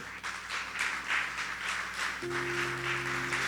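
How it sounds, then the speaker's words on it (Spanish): Congregation applauding for the Lord at an evangelical church service, a steady wash of many hands clapping under a sustained musical tone that shifts partway through. "denle un fuerte aplauso al Señor"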